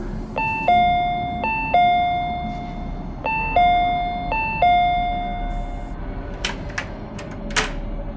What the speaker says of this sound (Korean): 초인종을 눌렀다